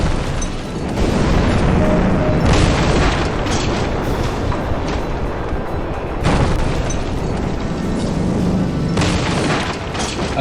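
A cruise missile launcher blown up in the naval warfare game C:MANO, heard as a long, loud, rumbling explosion roar that rolls on steadily with several heavier booming surges.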